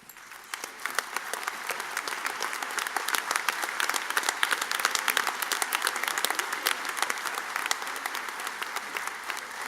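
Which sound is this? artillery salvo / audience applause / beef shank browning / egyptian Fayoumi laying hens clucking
audience applause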